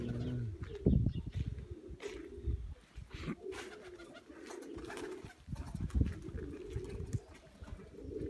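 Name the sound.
pigeons cooing in a dovecote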